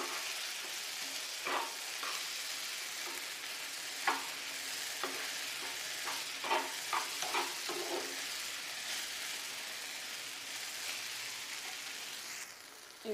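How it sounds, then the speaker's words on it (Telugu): Mashed leftover idli stirred into a hot sizzling pan, a steady frying hiss with scattered scraping spoon strokes and soft clicks running throughout, close and moderately loud, no voices. "ఇప్పుడు మనం మెత్తగా చేసుకున్న ఇడ్లీని వేస్తున్నాము. ఇది వేసి బాగా మిక్స్ చేసుకుందాము."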